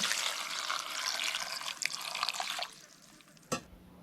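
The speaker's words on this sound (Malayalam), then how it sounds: "പിന്നെ വെള്ളം കൂടി ചേർത്ത് കൊടുക്കാം" Water runs and splashes into a cooking pot of tender jackfruit and rock salt for a couple of seconds, then stops, followed by a brief clank near the end.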